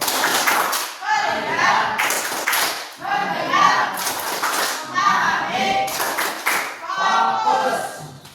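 Children in a classroom perform a rhythmic focus clap, repeated bursts of sharp claps in a patterned beat, with a teacher's voice between the rounds.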